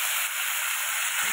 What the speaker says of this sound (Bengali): এটা আগে ভাজা হোক ভালো মতো।